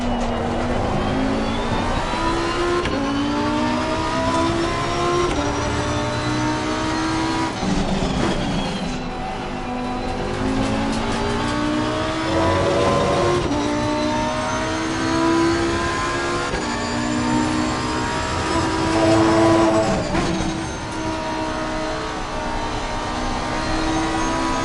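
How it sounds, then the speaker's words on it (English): Race car engine in a racing simulator at a Kyalami endurance event, loud continuous engine roar rising and falling through repeated gear changes and revs, heard alone and close. "the engine noise is blaringly loud in my headphones"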